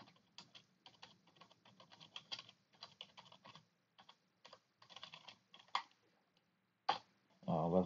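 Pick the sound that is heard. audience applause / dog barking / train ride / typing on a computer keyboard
typing on a computer keyboard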